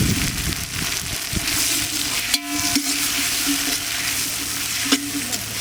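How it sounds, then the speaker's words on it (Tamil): Onion, garlic, green chilli and curry leaves fry loudly in a pan by a riverside while a spoon stirs them, a continuous close sizzle broken by scraping strokes and a couple of sharp knocks. "வெங்காயம், பூண்டு, பச்சை மிளகாய் போட்டுக்கலாம். கருவேப்பிலை போட்டுக்கலாம். கிளறிக்கலாம்."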